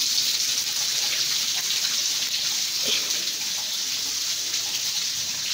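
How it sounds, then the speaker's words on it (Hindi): Rainwater from a roof drains through a pipe into a gutter below, making a steady, close splashing rush with an even hiss that holds throughout. "ये ऊपर से छत का पानी सारा नीचे आ रहा है छत से और फिर वहाँ पे पाइप लगा वो नीचे गटर में जा रहा है"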